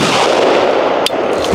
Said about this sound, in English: So it looks like I shot it right here, and yeah, I went right through.